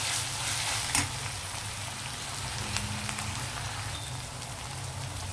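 Ginger garlic paste frying in a pan for a village-style chicken curry, giving a steady crackling sizzle with a few louder pops and a faint stir.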